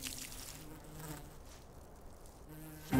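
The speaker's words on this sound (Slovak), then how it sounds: "i každé včelie zabzučanie" Bees buzz steadily near a farm field, a continuous low drone with faint wavering tones, fairly quiet throughout with no voices.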